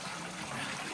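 Water trickles from a tiger-mouth spout at Baghdwar in Shivapuri, a faint, steady, continuous dribble with no voices.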